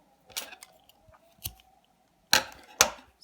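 Scissors snip through yarn for a crocheted amigurumi chicken, several sharp close cuts: a couple of softer snips early, then two crisp loud ones near the end, with no talking.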